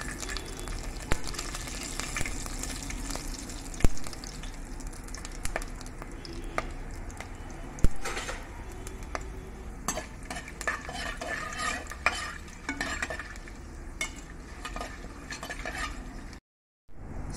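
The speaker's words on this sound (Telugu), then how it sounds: "స్పైసెస్ ఫ్రై అయిపోయినాయి." Cardamom and shahi jeera spices frying in hot oil, a soft continuous sizzle with occasional sharp clicks of a spoon stirring against the vessel, fairly close and even throughout.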